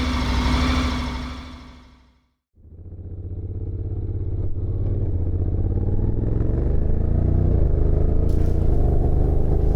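A 2023 Honda NC750X DCT motorcycle's engine fades and cuts briefly, then restarts and rises into a steady, loud, close parallel-twin drone as the bike pulls away and accelerates smoothly.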